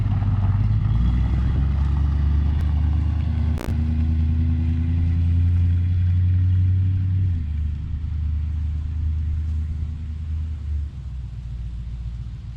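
A 1971 GMC 1500 pickup, started for the first time in 28 years, rumbles at a steady low idle close by, its engine note holding for several seconds before easing slightly lower.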